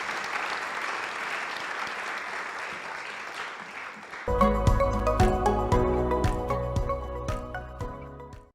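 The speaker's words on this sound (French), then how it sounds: "Je pense qu'on peut quand même vous applaudir" An audience at a conference on decarbonising freight transport applauds, a dense clapping that starts partway through and fades toward the end, following a stretch of quieter room noise.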